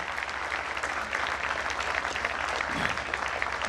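Audience applause honouring the poet Dr Hariom Panwar at a Panchkalyanak Pratishtha festival at the Golden Temple in Rohini. The clapping is dense and steady and carries on for the whole stretch, with no voices over it.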